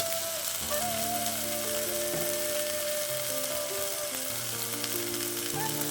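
Spice mix with salt, turmeric and ground coriander-cumin sizzles steadily in hot oil for a fish pakora dish, a continuous close frying hiss with no talking, while faint tonal hums run through the background.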